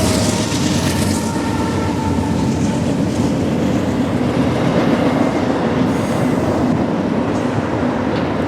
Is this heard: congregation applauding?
no